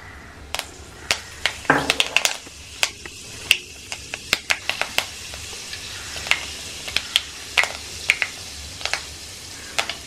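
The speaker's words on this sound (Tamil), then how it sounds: "கடாய் வச்சு நல்லெண்ணெய் விட்டுருக்கேன், அதில் ஒரு ஸ்பூன் அளவுக்கு வெந்தயம் போட்டு தாளிக்கிறேன்" Fenugreek seeds crackle and pop in hot sesame oil in a kadai, a tempering step for a fish head kulambu. Sharp, scattered pops sound close and fairly loud over a soft, steady sizzle throughout.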